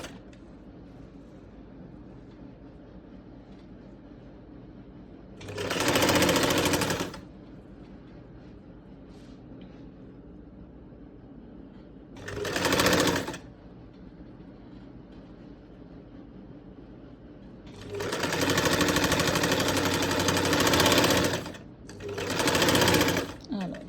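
A sewing machine stitches a neck facing in several separate bursts, two short and two longer, each loud and steady, with someone talking quietly between them.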